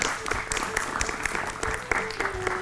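Applause from a studio audience, with quick separate claps at a moderate level over background tones and low murmur.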